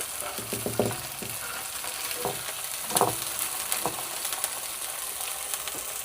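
Flattened burger patties with bacon and cheese sizzle steadily in a hot pan, a close, even hiss broken by a few soft scrapes and taps from a spatula turning them.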